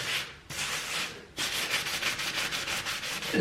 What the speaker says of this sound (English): I'm scrubbing, as you can see, but it doesn't seem to have made much of a difference.